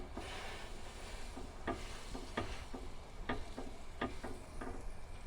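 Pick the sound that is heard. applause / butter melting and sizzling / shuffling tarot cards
butter melting and sizzling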